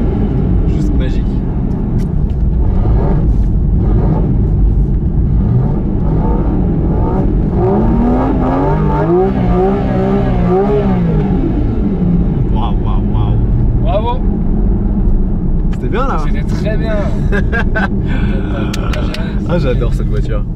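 A Porsche GT4 RS engine revs and climbs through the gears, loud and close, with a voice talking over parts of it.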